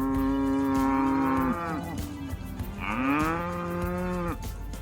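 Cattle on a Texas ranch moo loudly and close, two long drawn-out calls one after the other, with no talk over them.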